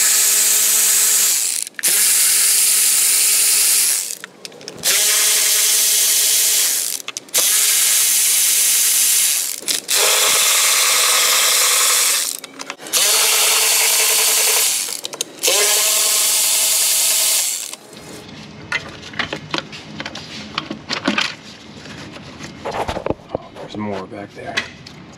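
A power tool on a Jeep Wrangler 3.6 Pentastar rattles loudly in repeated bursts of about two seconds each, loosening 8mm bolts on the lower intake manifold, followed by quieter clinks and handling noises.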